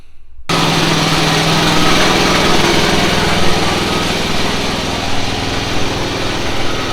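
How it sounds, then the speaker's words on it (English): A small groundhog-style engine, just revived, runs steadily and loud close by after a brief quiet start, a continuous high buzzing drone with slight unevenness hinting at occasional misses on a cold, windy day. "It's running. It's been running for a few minutes now. So I don't know, it seems like it misses every now and then"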